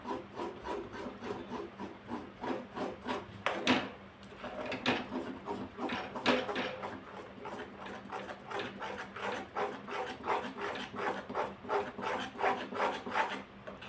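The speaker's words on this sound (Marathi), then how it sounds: "जो भिजलेला रवा आहे तो टाकायचा छान असं एक सारखं हलवत राहायचं" Soaked semolina being stirred steadily by hand in a pot as it thickens for kurdai, a rhythmic rasping scrape repeating every fraction of a second, close and continuous with no talk.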